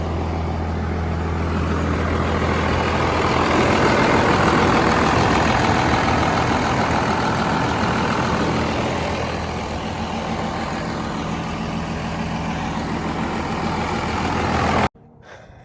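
Straight-piped second-generation 12-valve diesel truck engine idling steadily, a loud, constant low rumble with a rough chugging texture that holds for about fifteen seconds before cutting off abruptly.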